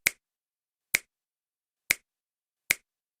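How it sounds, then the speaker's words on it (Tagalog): Four crisp finger snaps, evenly spaced under a second apart, close and clean against silence. "sa pagiglap ng ating daliri tulad nito"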